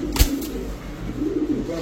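A female tiger racer pigeon coos up close, a low steady throaty burble, with a short rustle near the start and a voice faintly in the background.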